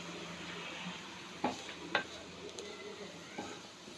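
Turmeric, garam masala and biryani masala sauté in oil for egg biryani, a soft continuous sizzle broken by a couple of sharp spoon-against-pan clinks and stirring scrapes.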